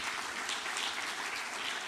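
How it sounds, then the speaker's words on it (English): Steady applause from a conference audience at a plenary session on advanced materials, a dense even wash of many hands clapping throughout the short stretch, fairly loud and uninterrupted. "give a round of applause to the speakers"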